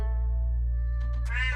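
A cat gives one short, fairly faint meow near the end, after a few soft clicks, over a constant low hum.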